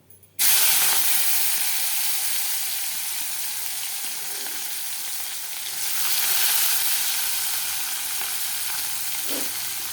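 Chopped onion hits hot oil in a pan while cooking boal fish curry, setting off a loud, steady sizzle that fills the whole stretch and swells briefly midway, with no talking.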